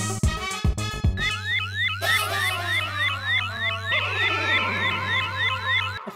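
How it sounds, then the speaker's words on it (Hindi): A security scanning machine at a checkpoint in a sitcom sets off a loud electronic alarm after a few sharp hits, with rising, warbling sweeps repeating rapidly and steadily like a siren. "लेकिन सर ये मशीन बीप कर रही है, तलाशी लेनी पड़ेगी।"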